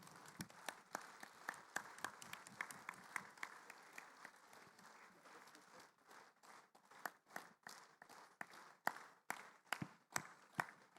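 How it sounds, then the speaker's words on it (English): A small audience claps faintly and loosely at a cultural event, starting as a dense patter and thinning into separate, widely spaced claps. "Shall we give a big round of applause for Miss Akali Kong He"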